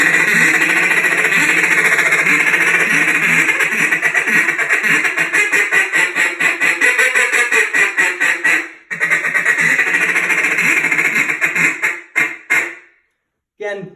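A duck call is worked through a rolling feed call in a duck calling contest: a rapid, continuous, chattering stream of loud close quacks that breaks briefly near the middle, resumes, and finishes with a few clipped notes.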